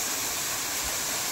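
Steady, loud rushing roar of the Yeram waterfall plunging about 90 feet on a stream near Nerur, a broad unbroken wash of water noise with a faint low thump.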